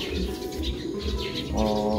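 A young racing pigeon coos softly at close range, with a few chirps and low throaty warbling over light background noise.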